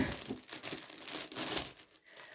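A plastic packaging bag crinkles and rustles up close while a parcel of blankets is unpacked, in irregular crackling bursts with brief pauses and no talking.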